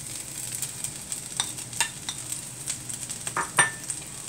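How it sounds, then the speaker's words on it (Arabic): Meat frying in a pot while being stirred, giving a steady sizzle with scattered scraping clicks from a utensil, close and moderately loud with no talking. "وأقلب."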